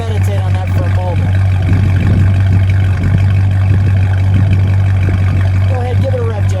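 The 318 V8 engine of a 1969 Dodge Coronet 500 convertible runs with a deep, steady rumble and a brief rev, loud and close, with someone talking over it.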